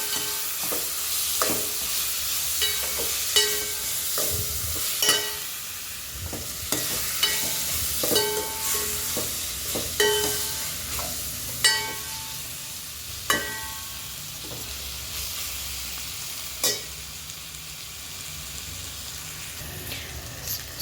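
Food fries in a hot pan with a constant close sizzle while a spoon stirs it, scraping and knocking against the pan at irregular intervals, with no talk.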